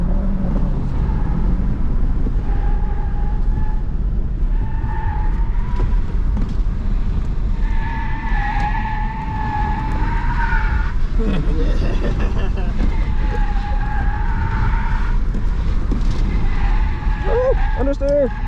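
A car on winter tires at an autocross course, loud engine drone with tires squealing and skidding in repeated wavering tones, while people talk over it.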